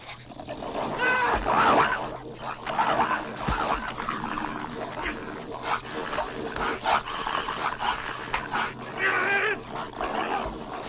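A dog growls, snarls and scuffles through a noisy attack, a rough, close and sustained commotion with bursts of louder rasping and people's voices mixed in.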